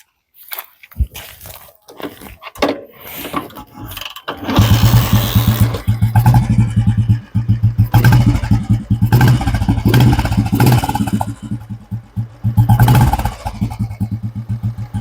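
A 1982 Royal Enfield Bullet motorcycle engine is kicked a few times, then catches and runs loudly with a steady chugging idle and occasional revs, close by.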